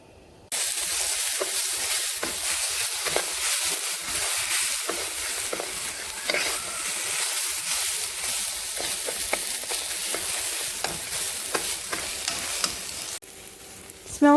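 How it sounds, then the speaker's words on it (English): Rice with onions and garlic frying over high heat in a pan, a continuous close sizzle broken by frequent stirring scrapes and clinks, loud and steady before dropping off near the end. "my rice is almost all evenly fried, so I'm gonna start adding the onions so it fries with the rice"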